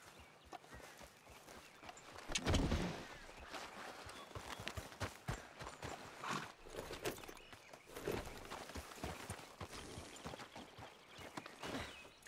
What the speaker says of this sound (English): We'll need to go on a horse.